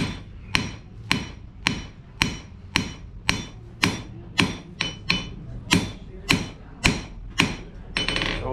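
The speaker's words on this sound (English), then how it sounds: "So he's forging right now. That's the process of forging." A blacksmith forges hot metal at a historic museum school fair, striking it with a hammer about fifteen times in a steady ringing rhythm. Each blow is loud and close, with a short metallic decay between strikes.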